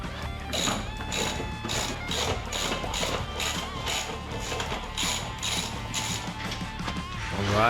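A ratchet loosening wheel bolts on a buggy during a tire change, clicking rapidly and steadily at close range without pause.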